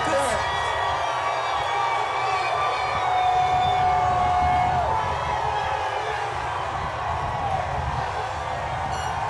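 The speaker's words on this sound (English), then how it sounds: "How excited is this crowd" A large crowd cheers along an NBA championship victory parade route for the Oklahoma City Thunder, a steady loud roar with sirens wailing over it and a voice talking nearby.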